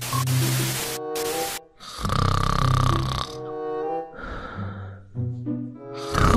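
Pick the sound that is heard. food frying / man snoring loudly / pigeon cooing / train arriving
man snoring loudly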